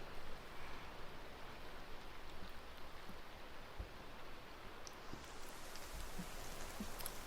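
Steady rain in The Forest survival game, a soft continuous hiss of falling drops with scattered faint ticks, evenly sustained throughout and heard alone without voices.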